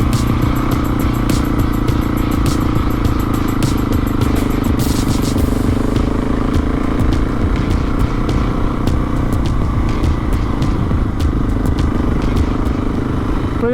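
A Husqvarna 701 Enduro motorcycle climbs the steep Hardknott Pass, its single-cylinder engine droning loudly and continuously under heavy wind rumble, with occasional clattering knocks and no talking.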